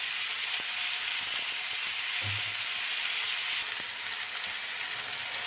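Onion fries in a pan for a village-style potato and pointed gourd mash, a steady, even sizzle heard close and alone, with a faint soft knock midway.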